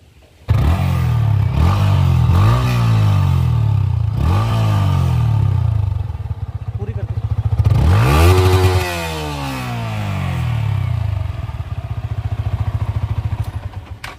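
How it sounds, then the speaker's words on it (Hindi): Yamaha R15 V3 BS6 sport motorcycle exhaust, loud and close, with repeated sharp throttle blips rising and falling, then a longer high rev climbing and settling back to a steady idle burble. "अब एक बार इसकी एग्जॉस्ट साउंड और सुना देते हैं।"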